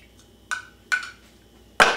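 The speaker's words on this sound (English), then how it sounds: "Get our ice, pour them in." Ice cubes drop into a mixing vessel holding room-temperature vodka and vermouth for a martini, three distinct clinking impacts, the last loudest and sharpest, close and alone.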